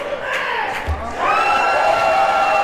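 Crowd at an independent wrestling match cheering for the wrestler Brian Richards, a sustained roar of shouts with a swell partway through and a dull thud near the start.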